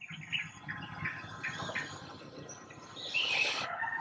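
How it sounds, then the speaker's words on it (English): Morning birds chirp around a rural home where a chicken is also kept, with scattered calls over a soft outdoor hiss, fairly distant and faint. "there's sound of other birds around"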